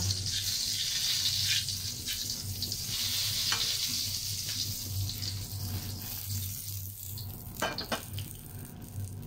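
Eggplant omelette with pork mince frying in hot oil, a steady close sizzle and bubbling that runs throughout with small crackling bursts near the end.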